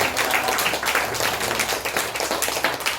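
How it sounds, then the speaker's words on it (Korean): Welcoming applause fills a Sunday church service, a steady, close wash of many hands clapping throughout. "최선이 이렇게 오셨는데 우리 환영의 박수 하겠습니다"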